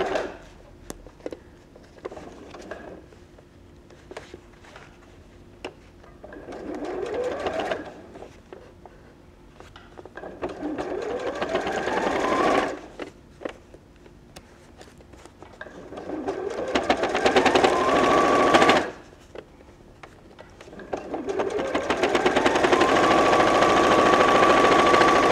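A sewing machine stitches gusset fabric for an overnight bag in several bursts, each whirring run speeding up and then stopping, with quieter pauses and handling of the fabric between runs.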